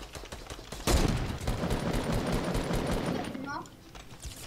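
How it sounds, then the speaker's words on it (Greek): Rapid automatic gunfire in an online shooter video game crackles in dense continuous bursts, loud and close, with a short pause near the end. "Τον βλέπω, μου ρίχνει ο ένας."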